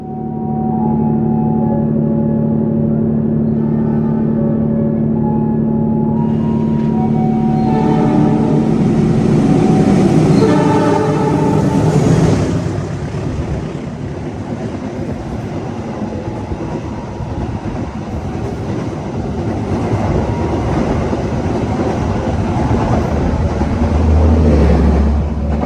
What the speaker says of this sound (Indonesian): Kereta api Argo Bromo Anggrek sudah menyusul kereta api Tawang Jaya di stasiun Pekalongan.